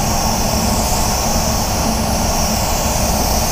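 A paint spray gun set to 2 bar (29 PSI) with the fan opened 1 3/4 turns sprays base and clear coat in orange on a RAV4, giving a loud, steady, close-up roaring hiss with no pauses and no talk.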